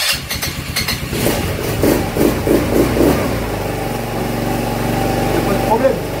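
A CRZ 2024 four-stroke 200cc quad engine starts and idles nearby, its running note rising in a few revving surges before settling, with some clatter at the start.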